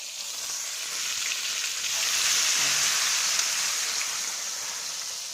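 Fish sizzle in a little oil in a frying pan, a steady bright crackling hiss that swells slightly in the middle and carries on without talk.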